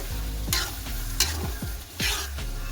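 A sauce mixture being stirred and fried in a pan for devilled food, with a steady sizzle broken by several scraping strokes of the spoon across the pan, close and clear.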